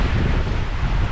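Strong wind of about 18 to 20 knots at sea on a sailing boat near the Diamond Rock blusters over the microphone in a steady, low roaring rush with no voices.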